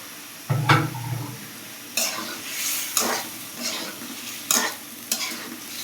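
Fried eggs go into an egg curry in a pan and are stirred, with repeated scraping strokes of a spatula over a bubbling sizzle, close up.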